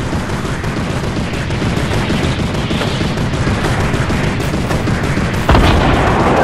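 Rapid gunfire in Fortnite, dense continuous shots crackling loudly throughout, with a heavier blast near the end.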